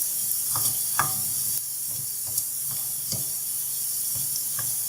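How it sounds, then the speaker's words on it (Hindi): Onions browning in a pan over medium heat for a gawar phali and chicken dish give a steady close sizzle, broken by soft scraping stirs and a few sharper clinks, with no talking. "बस मीडियम आंच पे आप प्याज को ब्राउन करेंगे।"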